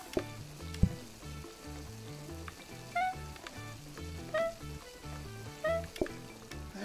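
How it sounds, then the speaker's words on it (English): Food cooking in the Plate Up! video game: soft steady sizzling under a looping, rhythmic game tune, with light chimes recurring every second or so. "Let's get those both cooking now."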